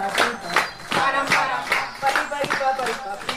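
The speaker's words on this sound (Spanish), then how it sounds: "Gritos y aplausos al compás de un ritmo llamaron su atención." People clap in a steady rhythm while voices shout and chant over it at a street gathering of women in colorful costumes with a large caiman head in Ciénaga, Magdalena, the beat close and lively.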